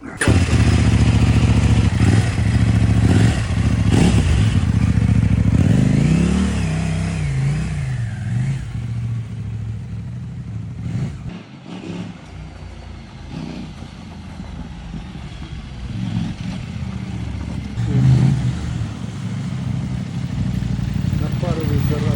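Kove 800 motorcycle being ridden a short way close by, its engine loud and rough, revving up and easing off with gear changes, and people talking over it.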